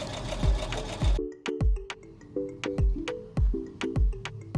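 A sewing machine stitches across the top seam of a small Barbie doll sleeve, starting with a quick whirring run and then moving in short bursts, each with a thump and a rising mechanical whine, close and clear.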